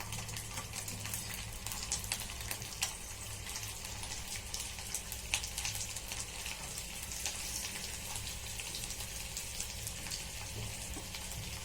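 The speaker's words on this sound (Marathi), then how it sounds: "सर्व आलूला चिरा मारून झाले आहेत आता आपण तेलामध्ये सोडूया" Scored potatoes for masala aloo dropped into hot oil in a home kitchen, giving a steady, dense crackle and sizzle that holds at a constant level without pause.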